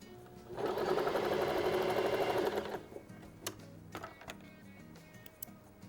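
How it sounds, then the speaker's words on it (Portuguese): A sewing machine runs a steady, fast stitch for about two seconds, sewing a side seam that joins small 7.5 cm patchwork squares for a cushion. A few sharp handling clicks follow once the motor stops. "E vou fazer uma costura aqui na lateral"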